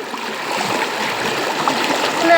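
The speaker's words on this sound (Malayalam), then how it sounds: "നല്ല ഒഴുക്കുണ്ട്, കണ്ടുവരുന്ന തിരമാലകൾ പോലെ വരും" River water flows steadily in a continuous close, full rushing wash, with no speech over it.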